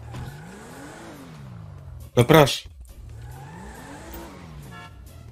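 A car pulls away and accelerates in a quick loud burst that fades, between stretches of low idling engine hum, with a short spoken remark just before it.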